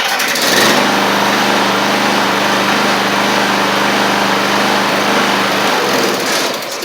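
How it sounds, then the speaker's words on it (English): A 24-inch Murray rear-engine riding mower, its fuel once contaminated with water and its engine rusted, idles close by with a loud, steady small-engine drone that carries a faint surge. Its startup and rundown are audible at the edges. "so that's everything on this 24-inch Murray riding mower"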